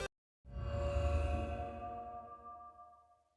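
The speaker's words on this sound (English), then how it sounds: "the beacon sound effect" The Minecraft beacon power-select effect starts with a soft onset and swells into a resonant, shimmering tone. It lingers and slowly fades over about three seconds, standing alone with no other sound.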